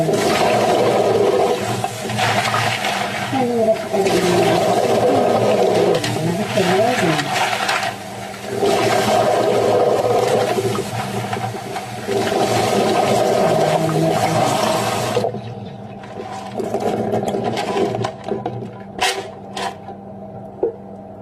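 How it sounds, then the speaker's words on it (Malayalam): Pebbles swished and rattled in water, a continuous sloshing, gritty clatter nearby that stops abruptly near the end, leaving a few faint clicks. "പെബിൾസ് നമ്മൾ കുറച്ച് വെള്ളം ഒഴിച്ചെടുത്തിട്ട് നോർമൽ കഴുകുന്നത്"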